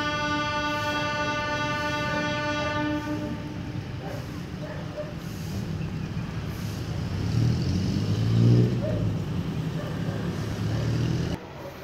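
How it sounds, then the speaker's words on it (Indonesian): A train's horn sounds in a long steady blast, then a rumbling train draws nearer at Bandung station, growing louder with faint voices in the background. "Itu ada kereta yang akan ke sini."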